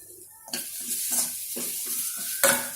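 Ingredients for milagu kulambu (pepper curry), including coconut, sizzle in a hot pan on low heat while a spoon stirs and scrapes in a steady rhythm, with a couple of louder clanks against the pan.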